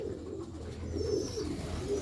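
Pigeons on a rooftop loft coo steadily in low, rolling murmurs, a close, continuous soft cooing with no talking.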